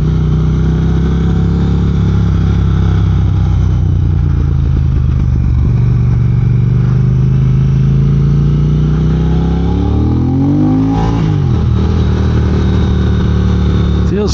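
A 2022 motorcycle with a reflashed ECU and a more aggressive throttle map, the engine droning steadily while being ridden, its pitch rising and falling as the throttle opens and closes, with heavy wind noise and no talk.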